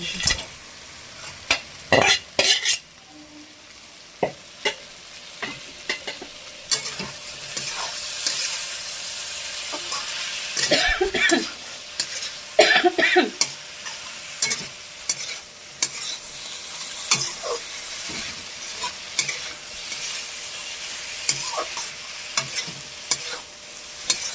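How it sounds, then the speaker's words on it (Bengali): Fish pieces sizzle and fry in hot oil as they are sautéed and stirred in a pan, with a continuous crackling hiss punctuated by sharp scraping and clattering stirs at close range. "এবার মাছগুলো আমি এর মধ্যে দিয়ে কষাবো।"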